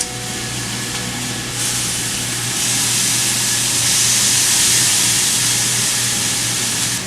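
Food grills under an old roaster lid, giving a loud, continuous steamy hiss with a low hum beneath it, swelling slightly partway through and staying steady to the end.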